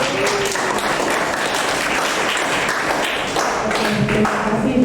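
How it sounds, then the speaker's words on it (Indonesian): An audience at an industrial plant visit gives a steady round of applause, dense clapping close by with a few sharper taps and thumps mixed in. "Ya, tepuk tangan dulu."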